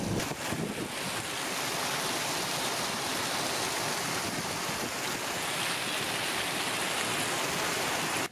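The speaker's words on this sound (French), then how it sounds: "on est sur de la petite grêle, rien de bien méchant" Small hail falling during a thunderstorm, a dense, continuous rushing hiss of pellets striking surfaces, loud and steady throughout with rumbling wind noise underneath and no talk.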